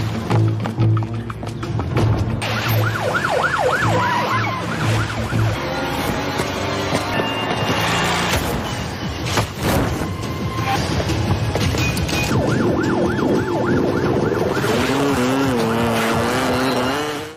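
A police car chases with its siren wailing in rising and falling sweeps, mixed with engine roar, crashes and loud action effects in a dense, dramatic soundtrack.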